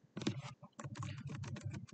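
Fast typing on a computer keyboard while entering a project name, a steady run of crisp close key clicks with one brief pause, no talk.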